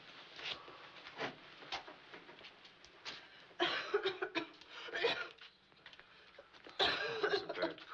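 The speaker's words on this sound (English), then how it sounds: "That's a bad cough." Several rough coughs in bursts, fairly faint and a little distant, with short pauses and some breathy noise between them.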